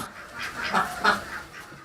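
Ducks on a duck farm beside a haor wetland quack in a few loud nasal calls over a steady background murmur.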